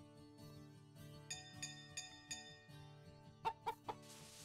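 Chickens cluck in the farming video game Story of Seasons, a few short bursts ringing out over steady background music, clear but not loud.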